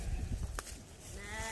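Sheep bleat faintly at an outdoor auction, with one short bleat rising over low rumbling background noise and a soft wavering call near the end.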